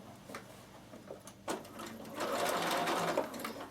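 A sewing machine stitches fabric for a zippered knitting bag, starting with a few taps and clicks before settling into a steady, close whirring run that builds in loudness toward the end.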